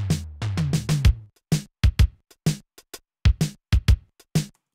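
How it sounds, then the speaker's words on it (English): A dry Monster Drums Linn drum machine kit plays a punchy pattern, with tight kick and snare hits and short bright transients separated by clean gaps, loud and upfront with no voices. "I have it on this Monster Drums Lin kit."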